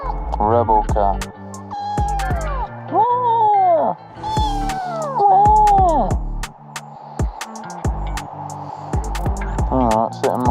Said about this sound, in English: Rebel cat.